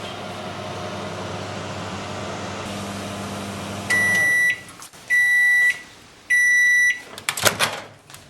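Ordinary household microwave oven without a heating element, cooking a jacket potato: a steady humming run stops, followed by three long evenly spaced electronic beeps and a brief clatter of the door or plate.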